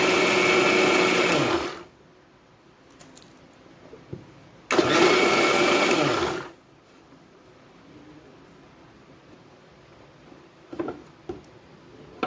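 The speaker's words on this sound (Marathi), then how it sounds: "मी इथं डाळ आपली तांदूळ मिक्सरमधून फिरवून घेते" An electric mixer grinder grinds soaked dal and rice into dosa batter in two loud, steady whirring bursts of a couple of seconds each, separated and followed by quieter kitchen background with faint clicks.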